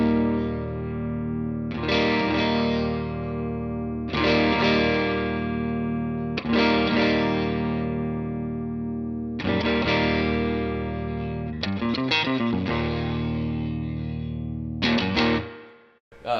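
Electric guitar played through a Marshall Origin 20H tube amp with the presence control at zero, giving distorted, sustained chords struck in separate phrases with brief gaps, ending in a quick strummed flurry, loud and alone.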